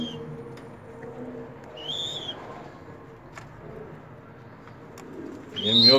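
A young pigeon chick coos and makes soft calls while being coaxed to eat on its own, with a few brief faint notes over quiet room noise and a louder sound rising at the end.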